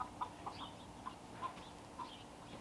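Chickens in an aviary give soft, regular clucks spaced about half a second apart, faint and fairly distant over a low background hum.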